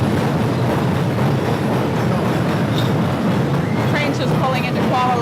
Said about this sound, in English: Train's just pulling into Kuala Lumpur, the capital of Malaysia